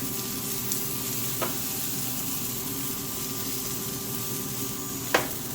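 Garlic fries in a pan until golden brown and crispy, giving a steady, soft sizzling crackle throughout, with a couple of faint clinks and no talk.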